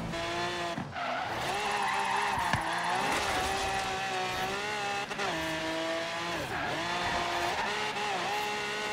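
A car drifting through a drift zone in Forza Horizon 3, its engine revving loud and steady with rising and falling pitch and tire squeal throughout, brief dips as gears shift.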